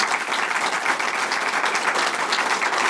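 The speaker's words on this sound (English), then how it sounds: "So if we can give him a round of applause," At a press conference, a room gives a round of applause, a dense, even patter of many hands clapping continuously and fairly close for a few seconds.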